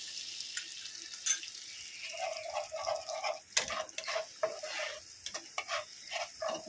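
Spices and cumin powder fry quietly in a pan, a faint intermittent sizzle with occasional clinks and scraping stirs, fairly soft and close, no talk.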